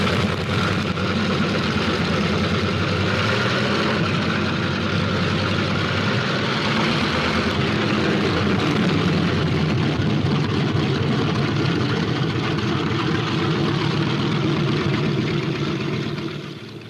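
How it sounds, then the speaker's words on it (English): Several WWII fighter plane engines, including P-47 Thunderbolts warming up on an airfield, drone and rumble steadily at close range, a loud continuous roar of propellers idling and revving without any voices. "On the field, planes warm up."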